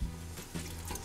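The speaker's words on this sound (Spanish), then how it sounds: "Le agregamos la leche evaporada" Evaporated milk is poured into a pot. The liquid gives a soft, brief splash and gurgle, quiet and close, with no talking.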